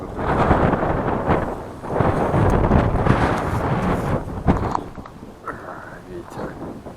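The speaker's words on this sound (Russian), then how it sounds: "Ветер." Strong gusty wind buffets the microphone in loud, roaring bursts while fishing in a city, rising and falling over several seconds with brief lulls near the end.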